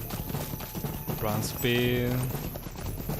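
Horse hooves gallop in Lord of the Rings Online, a steady rhythmic clip-clop sitting under game music while a player talks over it.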